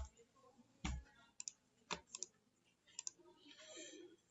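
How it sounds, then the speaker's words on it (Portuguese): Sharp computer mouse clicks and a Delete key press while clearing cells in an Excel spreadsheet, several separate crisp clicks spread across the clip, close and fairly quiet, with faint background murmur at the end. "posso só selecionar o que eu quero com o mouse, ó, teclado Delete"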